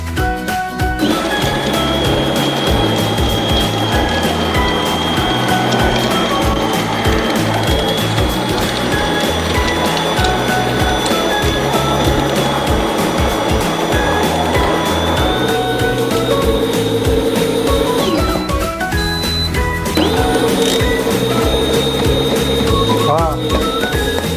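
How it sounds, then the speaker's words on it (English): A Homtone espresso machine's built-in grinder runs loud and continuous as it grinds cleaning tablets, a dense mechanical whir with rattling crunches and a grind setting shifting partway through. "Pop them in the grinder. And then run the grinder."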